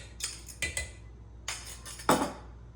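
A spoon stirs tempered egg into thick grits in a cooking pot, giving a few close metallic clinks and scrapes against the pot in short, uneven bursts.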